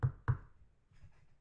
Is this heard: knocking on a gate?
yes